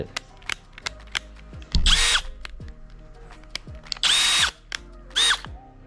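PUMA PM-245BL 20V cordless brushless drill whirring in three short bursts at varying speeds, spinning up and winding down each time, close and clear, separated by quiet clicks and handling noises.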